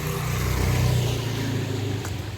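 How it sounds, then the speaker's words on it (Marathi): A car drives past on a wet road in the rain, its engine hum rising close by and then fading as it moves away. "थांब, गाडी येते."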